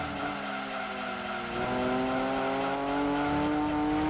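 Engine of a Nissan Skyline R34 pulling out onto the track in Gran Turismo 2, a steady rising whine with harmonic drone that builds slowly and holds, alone without talk.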